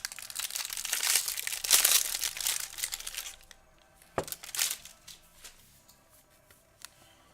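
Wrapper paper crinkling and rustling as baseball card boxes are opened, close and loud in bursts at first, then quieter, scattered crackles and a few sharp rips.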